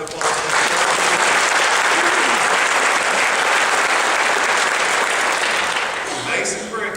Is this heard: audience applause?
yes